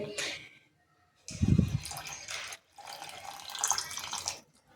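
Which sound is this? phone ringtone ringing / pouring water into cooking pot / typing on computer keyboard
pouring water into cooking pot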